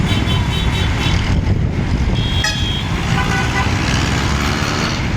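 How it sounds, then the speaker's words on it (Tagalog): Dense highway traffic near a bridge, a steady loud roar of cars and trucks with a car horn tooting briefly near the middle. "Traffic siya guys."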